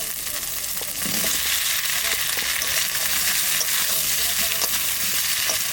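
Potatoes coated in ground spice paste hit a hot pan and fry with a loud, dense, continuous sizzle that jumps up at the drop and holds steady, with occasional stirring knocks.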